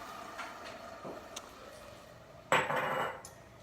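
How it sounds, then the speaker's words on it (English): Canned tomatoes are tipped from the can into a cooking pot in a home kitchen, a few light knocks and then a wet splattering glug of sauce and fruit pouring in, close and without speech. "I'm just going to pour these into our pot."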